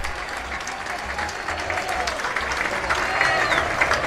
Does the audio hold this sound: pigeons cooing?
no